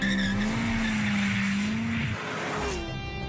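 A new Chevrolet Corvette ZR1 supercar, rated at 330 km/h, roars past at close range with a steady, loud high engine tone and a brief squeal of tyres, then the pitch drops and fades slightly at the end.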